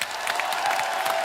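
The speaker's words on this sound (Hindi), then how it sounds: "जोरदार ताली।" Studio audience applause on a Hindi comedy talk show stage, a dense steady wash of clapping and crowd noise filling the whole short stretch at an even, moderate level.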